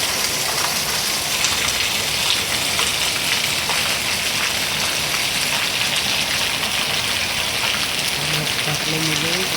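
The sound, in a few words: heavy rain falling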